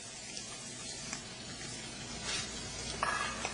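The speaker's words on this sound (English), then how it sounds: "To this, I'm going to add about a cup of cut up mushrooms, a 1/4 cup of diced onion," Cut mushrooms and diced onion sizzle softly in butter in a pan, a quiet, even frying hiss with slight stirring.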